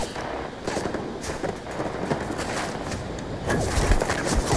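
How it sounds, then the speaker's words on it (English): Bursts of fire from the Kodama compact rifle in Starfield come as rapid clustered shots, moderately loud and continuous, growing somewhat heavier toward the end. "If you burst fire it, which is probably the best way to go, you'll probably get a little bit more accurate."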